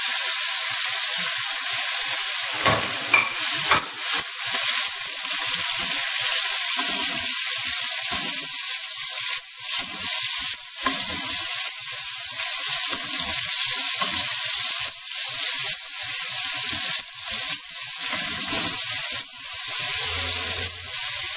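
Pork cheek frying in its own rendered fat for dinuguan, a steady loud sizzle and crackle with popping spikes throughout, close to the pan, with occasional stirring.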